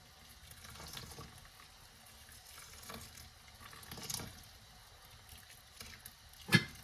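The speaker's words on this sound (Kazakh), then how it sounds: "Енді осы күріштің үстіне қайнап тұрған суымызды құйып шығатын боламыз." Boiling water is poured over two cups of rice while making pilaf, giving a faint, soft splashing trickle in a quiet kitchen, with a sharp knock near the end.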